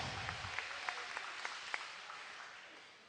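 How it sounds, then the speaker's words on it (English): A crowd at an Armed Forces boxing event in the 165 lb weight class applauds the boxers after a bout, with faint, somewhat distant clapping that holds steady and then gradually fades. "Round of applause for these fighters."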